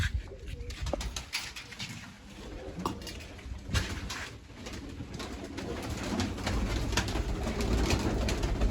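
Pigeons coo softly and repeatedly against a busy background of light clattering and scattered ticks.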